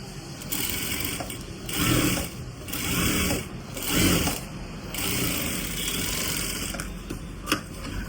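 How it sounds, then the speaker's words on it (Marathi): A sewing machine stitches a stretchable fabric strip, running as a steady, close mechanical whir that surges and eases in rhythmic pulses. A brief click sounds near the end, and nobody talks. "अर्धा इंचावरती सगळीकडे टिप मारून घ्यायची."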